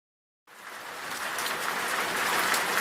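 Relaxing rain starts abruptly after a moment of silence, then falls as a steady, dense hiss of drops that grows slightly fuller and stays even, with no voices over it.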